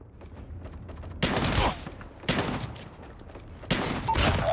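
Shotgun blasts from a first-person shooter video game, three loud booming shots spaced about a second apart, each ringing out with a sharp crack and a rolling tail, over a steady low background din.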